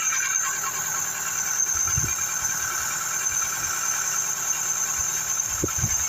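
A Mk3 Ford Cortina Estate engine idles with a steady hum and a persistent high whine, low thumps and rumbles suggesting heavy vibration, continuous throughout.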